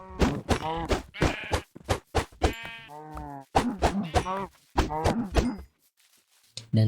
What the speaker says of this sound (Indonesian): Karena udah nemu domba, aku langsung bunuh semua domba itu untuk buat bed.